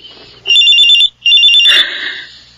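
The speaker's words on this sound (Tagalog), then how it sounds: "Oh, ang cellphone ko. May tumatawag." Cellphone ringtone for an incoming call, loud and close, with two bright electronic ringing bursts separated by a short gap, then a softer trailing tone.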